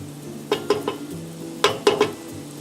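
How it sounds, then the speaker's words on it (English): Garlic frying in a pot for vegetable soup, with a steady soft sizzle under repeated clinking stirs of a utensil against the pot, coming in two quick clusters of three. "now I'm going to let this fry for about 30 seconds"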